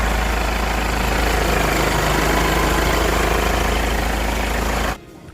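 A Kia Carens engine idles steadily during a radiator coolant flush, a loud, close, even rumble with a low throb that cuts off abruptly near the end.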